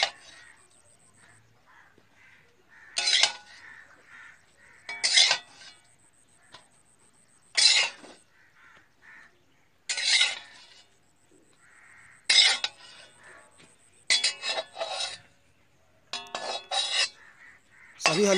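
A utensil cuts mahua halwa in a metal thali, producing sharp, bright metallic scrapes and taps in irregular bursts, close and fairly loud. Quieter rustling and faint handling noises fill the gaps between strokes.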